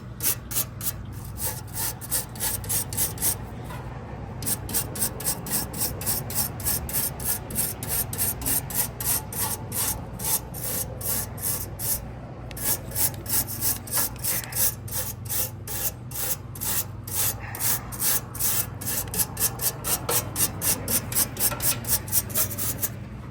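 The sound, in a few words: cleaning air conditioner condenser coil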